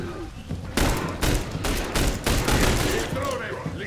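Bursts of rapid gunfire from the video game The Bureau: XCOM Declassified, several loud volleys crackling in quick succession with a few brief pauses between them.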